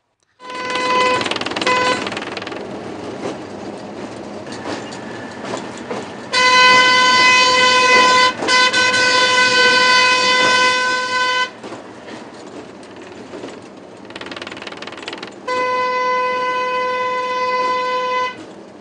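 A rail car on a Sudanese line out of Atbara station sounds its horn in several long, loud, steady blasts, separated by pauses in which the wheels rumble along the track beneath. No voices are heard.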